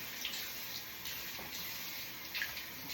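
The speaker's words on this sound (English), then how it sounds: "I just wash all of this off with first warm water and then I end it with cold water" A tap runs steadily into a sink during face washing with warm then cold water, a soft, even hiss of flowing water at low volume with no talking.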